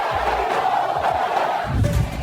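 Flamengo supporters chant in unison at the Maracanã during a Taça Guanabara match against Madureira, a dense roar of many voices rising and falling in rhythmic waves from a distance.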